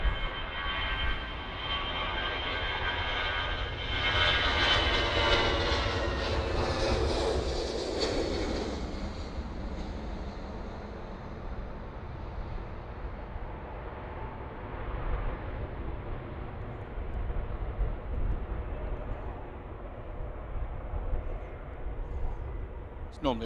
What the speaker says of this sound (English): So we're just going to get photobombed by the departing aircraft.